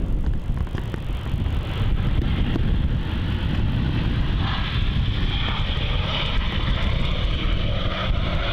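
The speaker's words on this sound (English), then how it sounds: "we have Virgin Australia 737-800 about to touch down on runway 34" A Virgin Australia Boeing 737-800 landing on runway 34 at Melbourne Airport, a sustained loud jet roar with heavy low rumble and wind buffeting, swelling slightly toward the end.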